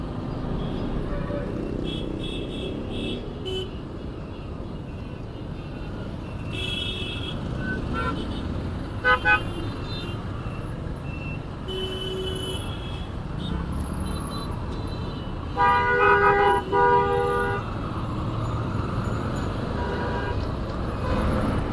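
Steady road traffic on a Dhaka street in light congestion, with engines idling and rumbling throughout and a few brief horn toots standing out midway, heard from close range on a Suzuki Access 125 scooter under speech.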